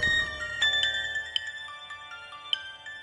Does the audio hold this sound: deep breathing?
no